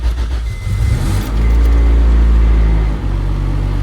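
A manual transmission car is cranked with the clutch pressed and fires up, a loud close low rumble that rises as the engine catches, then settles into a steady idle with a brief dip near the end.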